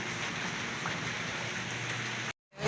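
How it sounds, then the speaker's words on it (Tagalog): Steady rain falls in a continuous even hiss during bad weather at a home laundry, then cuts off abruptly near the end; no one speaks. "Maulan pa rin"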